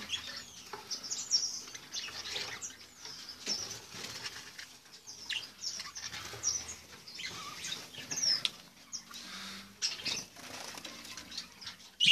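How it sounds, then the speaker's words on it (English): Budgies in a pet shop chirp busily in a dense, continuous chatter of high tweets, mixed with soft wing flutters and light scratching patter, moderately near and with no one speaking. "Budgies."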